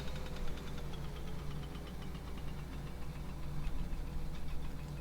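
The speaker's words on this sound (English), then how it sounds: "Ride our loud, noisy, boisterous motorcycle through town." Motorcycle engine idling in the video game My Summer Car, a steady, rough, ticking rumble that holds throughout at moderate level with no talk.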